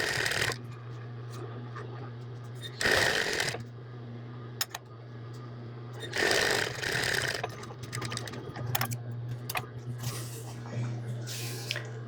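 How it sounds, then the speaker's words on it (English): A domestic sewing machine runs in short bursts stitching an apron armhole, its motor whirring close over a steady low hum, with pauses and small clicks between runs and no talk. "we're going to stitch the whole armhole and back stitch at the bottom"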